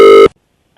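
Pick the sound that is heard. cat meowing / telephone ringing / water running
telephone ringing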